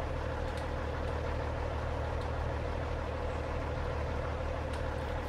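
A modded logging truck exhaust in American Truck Simulator idles on a Mexico extreme-logging haul, a steady, even low diesel rumble with no break.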